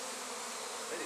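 Honey bees buzzing steadily and close while being moved into a nuc box at an engine museum, a dense continuous hum with no pauses and no voices.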